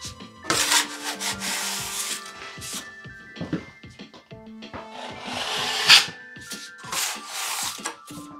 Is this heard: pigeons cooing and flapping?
no